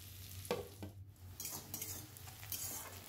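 Chicken with onions cooking in a pan: a faint sizzle of frying under scattered clinks and scrapes of a spoon stirring against the pan, quiet and close, with no talk.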